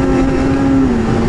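A 2018 Ski-Doo XRS 850 Rev Gen4 snowmobile rides over bare dirt instead of snow, its engine holding a loud, steady drone with a slight dip in pitch toward the end.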